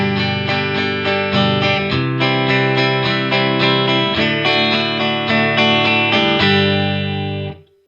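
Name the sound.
typical guitar chord strumming pattern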